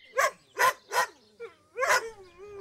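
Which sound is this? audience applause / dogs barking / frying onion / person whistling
dogs barking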